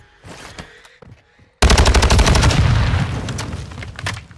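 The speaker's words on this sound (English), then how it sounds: "Oh, that's a bomb run." Bomb run airstrike in a first-person shooter video game: after a few faint taps, a sudden loud roar of rapid blasts and crackling gunfire bursts in and continues densely to the end.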